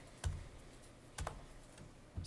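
Three separate clacky key presses on a computer keyboard, spaced about a second apart, close and alone in a quiet room while typing text into After Effects.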